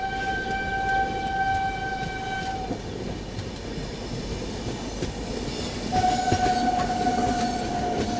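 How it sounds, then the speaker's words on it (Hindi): The East Coast Express passenger train rumbles past nearby with a steady, broad roar, its horn sounding a long tone at the start and again near the end. "ये जो ट्रेन आ रही है ना, ये ईस्ट कोस्ट एक्सप्रेस की आवाज़ है"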